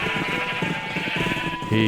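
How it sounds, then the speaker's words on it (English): Sheep in a Minecraft-style survival video game bleat repeatedly in quick overlapping cries, loud and close, with a sustained synthetic tone running underneath. "That is way too many sheep."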